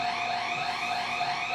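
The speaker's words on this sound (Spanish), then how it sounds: "Es una alarma, pero quién sabe si esté funcionando bien." A seismic earthquake alert alarm sounds as a steady, continuous electronic tone, fairly distant and unbroken, with no talk over it.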